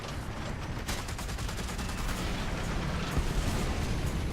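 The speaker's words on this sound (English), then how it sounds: "let's get all of our machine guns ready to shoot them down" Dense, continuous machine gun fire in the War Thunder tank game rattles on for several seconds as a loud, steady barrage with rapid repeated cracks and no talk.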